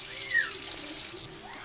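Water pours steadily into a large wok-style frying pan set on a heavy-duty oil-burning stove, a continuous bright splashing rush for under two seconds, close and loud with no talk.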